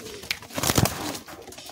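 A pair of Naphta pigeons in a cage give soft, low cooing calls, a few throaty coos bunched near the middle of a quiet moment, fairly close.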